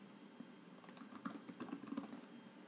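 A command being typed on a computer keyboard, a quiet run of soft, irregular key clicks that bunch up toward the middle, with no talking.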